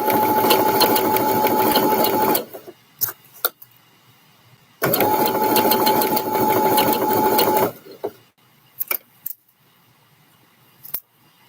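Sewing machine stitching a male scrub top, Simplicity 8088 pattern: two loud, close, continuous bursts of rapid whirring, each a few seconds long, separated by quiet pauses with small clicks and handling noises.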